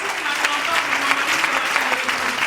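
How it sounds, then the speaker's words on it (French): A congregation claps for the Lord at a French-language church service, dense steady applause from a crowd close by, with voices mixed in. "Can we clap for the Lord?"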